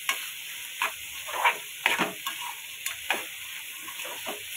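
Bitter gourd cooking in a pan over a low flame, a soft steady sizzle with intermittent scrapes and clicks of stirring, close and fairly quiet, no talking.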